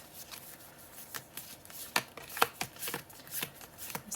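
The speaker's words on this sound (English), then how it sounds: "This is me trying to shuffle." Tarot cards being shuffled up close: a run of crisp, irregular riffling snaps and flicks, with no talking.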